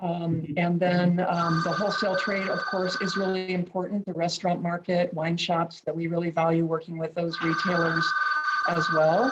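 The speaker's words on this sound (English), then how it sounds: "Sorry about my office phone ringing there." An office telephone rings in two electronic bursts, at the start and again near the end, partly masked by a person talking steadily over it.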